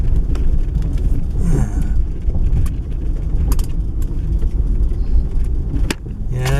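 A car rolls over a bumpy rocky road, its engine rumbling low with repeated thumps and rattles from the bumps, people speaking briefly inside.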